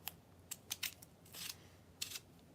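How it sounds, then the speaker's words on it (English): Urban Decay sharpener working on a makeup pencil, giving a handful of short, quiet scraping crunches spread unevenly over a couple of seconds with near silence between them. "I gotta sharpen it. This is my Urban Decay sharpener."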